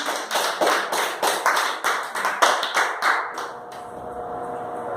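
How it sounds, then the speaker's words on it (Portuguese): A congregation at a Pentecostal church communion service claps in unison, about a dozen sharp rhythmic beats in a steady pulse that then stop, leaving a lingering tone and room ambience. "Pode aplaudir"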